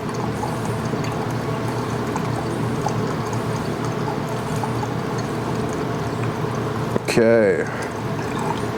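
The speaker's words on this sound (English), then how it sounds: "I'm going to pour 500 grams into this beaker." Liquid, about 500 grams, poured steadily into a beaker during chamomile extraction prep, a soft continuous trickle with faint background noise and a short spoken word near the end.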